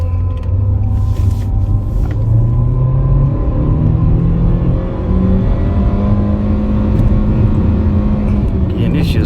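A 2014 Nissan Sentra S engine drones steadily under a hard pull in overdrive, a loud, continuous low rumble with rising harmonic tones that holds high RPM throughout.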